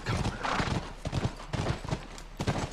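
A horse in The Last of Us video game, its hooves clip-clopping in a steady run over a dense, busy game soundscape.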